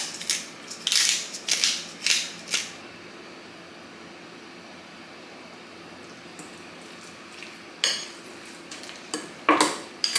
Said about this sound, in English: I'm going to start caramelizing some onions